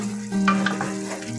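Free-range chicken cooks in a pan on a wood-burning stove, giving a steady close sizzle with a brief stirring scrape, no voices.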